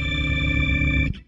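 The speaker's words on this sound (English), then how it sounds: "Here's the red preset." Walrus Audio Luminary quad octave generator pedal on its red preset, a sustained, layered guitar tone with stacked octave harmonics, loud and steady, then cut off abruptly near the end.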